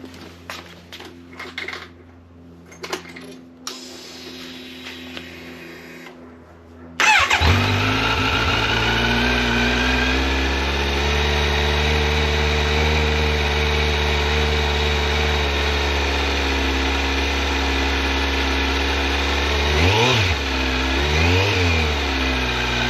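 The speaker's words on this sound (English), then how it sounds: "We'll do a cold start on the existing exhaust" A Kawasaki Z900 motorcycle with a Leo Vince LV10 carbon slip-on exhaust cold-starts, cranking and catching after a few quiet clicks, then idles loudly and steadily before two sharp revs near the end.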